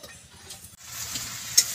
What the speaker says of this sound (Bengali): বড়ি ভাজছি।